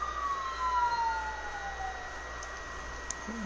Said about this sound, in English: Siren, guys, hold on a minute.